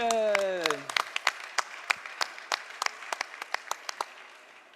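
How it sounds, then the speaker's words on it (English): Audience applause at an awards event: a brief voice at the start gives way to scattered, sparse claps from a small crowd, each clap distinct and fairly close, slowly fading. "can I have a round of applause for René Mathieu?"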